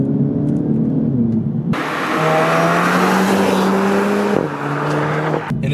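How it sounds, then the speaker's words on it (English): A 2016 Audi TT's 2-liter four-cylinder exhaust drones steadily, rising in pitch through gear changes, loud and close, with a sharp blip near the end. "You also have a pretty nice exhaust note as well coming out of the 2-liter 4-cylinder"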